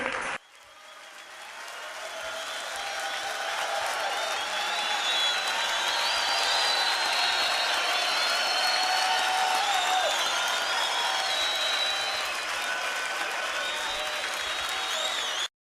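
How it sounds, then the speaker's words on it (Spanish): A church congregation bursts into long, loud applause that swells over the first few seconds and holds strong and steady, with some cheering mixed in, before cutting off sharply. "Un aplauso fuerte a Dios que vive."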